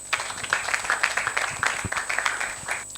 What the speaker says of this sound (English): A round of applause for Sam.